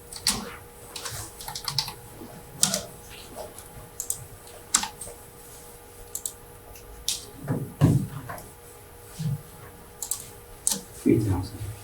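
Fingers type on a computer keyboard in quick irregular bursts of clicking keystrokes, close and clear, with short pauses between runs.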